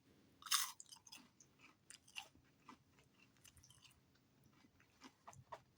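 Chewing a bite of a Burger King Wednesday Whopper, close to the mic: one crisp bite at the start followed by soft, wet, irregular chewing and mouth sounds, quiet and alone.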